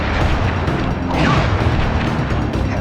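A fiery firework blast attack in Sly Cooper game combat booms as a dense burst of crackling noise, loud and rumbling, swelling near the middle with a hissing sweep.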